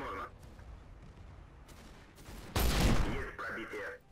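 A World of Tanks cannon shot booms loudly midway through, a heavy blast with a rumbling tail over quieter battlefield noise and game chatter.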